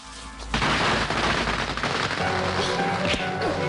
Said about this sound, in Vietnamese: Đốt pháo lên.